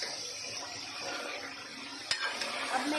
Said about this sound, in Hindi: अब मैं इसे भून लेती हूँ।